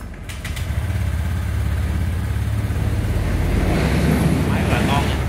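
A 2016 AB 125 scooter engine runs at a steady idle, a low rumbling putter close by with wind buffeting the microphone and faint voices around it.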